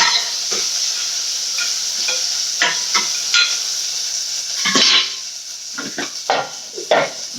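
Sliced onions sizzle in a hot pan as the base for an egg kurma, a steady hiss broken by scattered scraping and clinking of a spoon stirring them close by.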